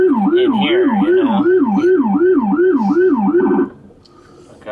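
A Rumbler low-frequency siren on an emergency vehicle wails in fast, steady up-and-down cycles, loud and booming as heard from inside the cab, then cuts off abruptly, leaving a quieter rumble.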